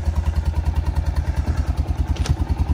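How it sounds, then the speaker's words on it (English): An ATV engine that had been sitting and was brought back to running idles close up with a steady, fast, even thumping putter and no talk over it. "Like you guys can see, this thing's running great."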